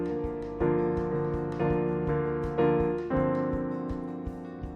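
Solo piano plays measure 2 of a song, steady repeated chords struck about every half second, clear and close with sustained ringing tones and no talking.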